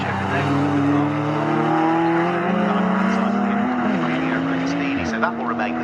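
Morgan race cars roar past at Snetterton circuit, engines droning loud with rising and falling pitch as they jostle in close pursuit, while a commentator talks steadily over the racing.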